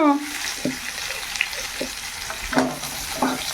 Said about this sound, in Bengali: এই যে তেলের মধ্যে পেঁয়াজ দিয়ে দিলাম, এই বেগুনগুলোও দিয়ে দেবো